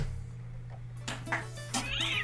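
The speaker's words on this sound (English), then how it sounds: "he's just here, the cat, just off the side of the table" A cat meows beside a table, two or three short, close meows rising in the second half over a steady low hum, with no talk.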